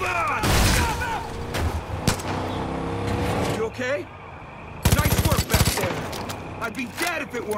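Gunfire in the video game Far Cry 5 during a vehicle chase: rapid automatic bursts and loud shots over a running engine, with people talking excitedly throughout.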